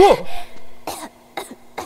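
A video game character's several short, breathy coughs come in bursts with pauses between them, close and fairly loud, with a steady low hum running underneath.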